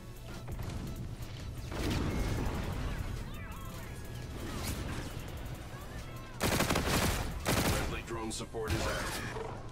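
Shotgun gunfire in a video game rings out as loud, sharp bursts, one near two seconds and a heavier cluster near six and a half seconds, over a constant busy game soundscape with a voice talking at points.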